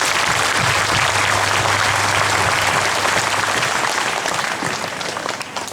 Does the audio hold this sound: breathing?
no